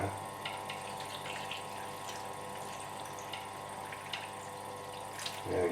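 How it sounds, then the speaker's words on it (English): Water flows steadily into a rock tumbler barrel holding tiger's eye stones, a constant close trickling wash over a low hum, with a slight splash near the end. "so we're going to put some water in here now"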